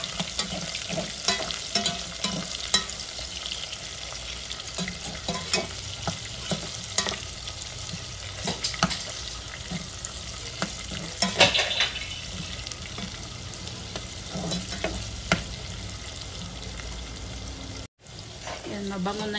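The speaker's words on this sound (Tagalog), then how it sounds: "Pakayin ko yung onion." Onion and garlic sizzle in plenty of oil in a pan while being stirred for a Filipino green bean and pechay dish, a steady close crackle with utensil scrapes and a brief tap of running water.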